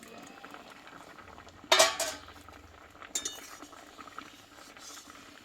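A pot of boiled papaya and lentils is lifted off the stove, with a sharp metallic clatter of the pot and lid, then a few lighter clinks over a faint simmer in a quiet kitchen.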